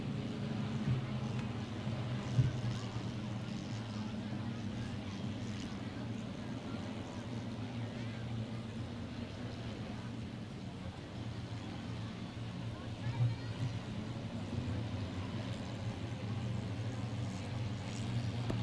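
Mini stock race cars roar past at Waterford Speedbowl, a steady, loud engine drone sustained throughout with brief peaks as the field comes by.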